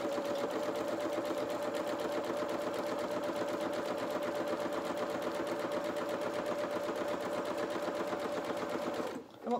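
A sewing machine hums in a steady, continuous run of rapid stitching across fabric, close and even throughout, cutting off abruptly just before the end.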